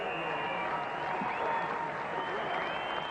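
A cricket crowd at Old Trafford applauds steadily, a broad, even wash of clapping at a moderate distance that holds constant throughout, with a faint murmur of voices blended in.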